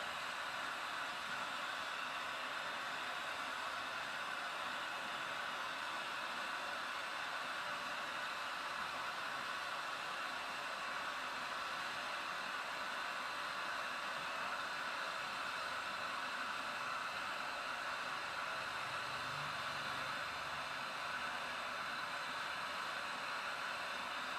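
Glassworking torch flame heating a 12mm glass rod, a constant broad roaring hiss that stays even and unbroken throughout, fairly quiet and with no talk.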